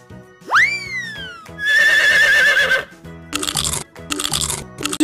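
A horse neighs loudly, a rising then falling whinny heard alone, followed by a warbling tone and bursts of crunching noise.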